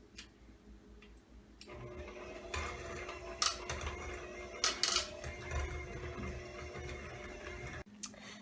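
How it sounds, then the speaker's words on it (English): An electric hand mixer mashes boiled potatoes with garlic in a bowl, switching on after a soft clatter into a steady motor whir with scraping knocks against the bowl, then cutting off abruptly near the end. "Now I'm going to turn on our mixer and begin to mash the potatoes."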